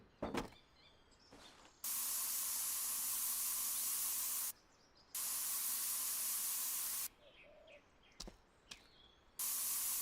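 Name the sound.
spray painting in a video game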